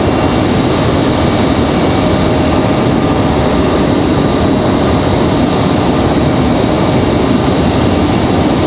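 A Mountain Air Cargo ATR 42-300F turboprop FedEx feeder, arriving on a short flight from Wilmington at Raleigh-Durham airport, gives a steady, loud, close drone of engines and propellers with a constant tonal hum throughout.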